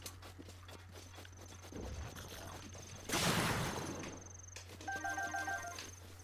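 Horse hooves in Zelda: Breath of the Wild, a quiet run of rapid hoofbeats over a steady low hum, broken by a loud whooshing burst in the middle and a few chiming game tones near the end.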